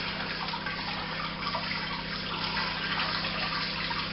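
Water runs steadily over a brew-in-a-bag grain bag to rinse out the last sugars, a continuous close hiss and splash of pouring liquid at moderate level, with no talk.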